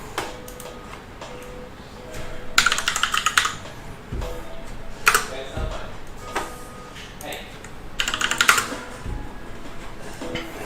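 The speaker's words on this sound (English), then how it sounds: "Actually, I can probably just type it in." Computer keyboard typing in short bursts of clicking keystrokes, with a few louder clusters of rapid taps, moderately close, with a person talking intermittently in the background.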